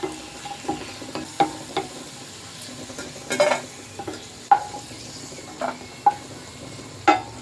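Raisins and cashews roasting in ghee in a pan for pineapple kesari bath, with a soft steady sizzle broken by several sharp spoon stirs and scrapes against the pan, close and clear without talk.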